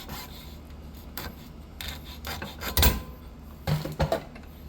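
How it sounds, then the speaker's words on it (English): Hand file rasping across the freshly hacksawed end of a Stihl KM 91R power head shaft, a few uneven strokes of varying loudness with quiet gaps between them. "I'll take a file and I'll clean it up a little bit"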